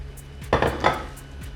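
Milk being stirred into a Bolognese sauce in a pan, a utensil scraping and clinking against the metal in a few short close strokes over a quiet kitchen background.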